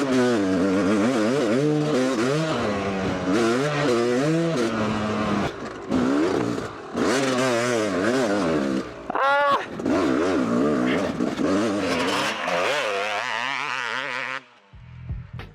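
A Yamaha YZ250 two-stroke dirt bike with a big bore kit rips around a lap, its engine rising and falling through repeated revving bursts and gear changes, loud and close, then cutting off near the end.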